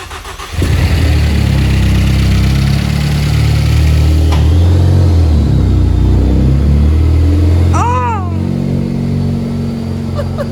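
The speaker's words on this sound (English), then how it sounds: "You hear the turbo?" A loud turbocharged Ford Focus ST engine with stage 3 cams rumbles steadily up close, with a brief rising turbo whistle partway through, the engine droning throughout.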